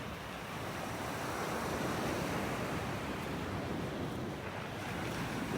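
Ocean surf rolling onto a beach in North Naples, Florida, a steady broad wash of breaking waves mixed with wind buffeting the microphone, continuous and fairly loud with no talk.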